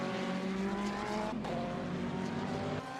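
GT3 race cars lap Spa-Francorchamps in a racing video game, a continuous faint engine drone with pitch shifting across gears, briefly dipping before the note rises again.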